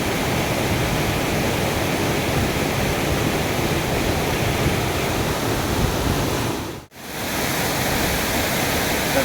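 Steady roaring rush of a waterfall at night at Savdav falls, a broad continuous wash of falling water heard close and loud, with one brief dropout near the end and no voices.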